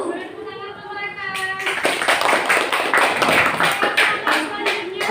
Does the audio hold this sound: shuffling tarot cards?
no